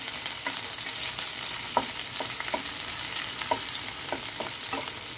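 Garlic and green chilies fry in hot oil for a methi bhaji, a steady close sizzle punctuated by repeated light scraping taps of a spoon stirring the pan, with no speech.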